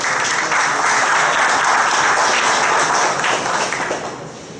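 Sustained round of applause from an audience in a municipal council chamber during a police honors ceremony, steady dense clapping that fills the whole stretch and tapers slightly at the end.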